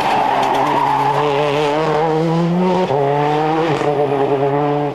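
Ford Focus rally car on a test run before the 2002 Rally Catalunya, engine revving loudly as its tires skid and squeal, with a pitch drop partway through, close and continuous with no talk.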